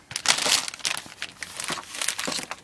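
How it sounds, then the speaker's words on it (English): Crinkly plastic packaging being torn and pulled open up close, in a series of crackling, rustling bursts. "Get this open. It's a nice, easy tear."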